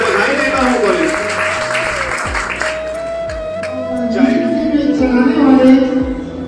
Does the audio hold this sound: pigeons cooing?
no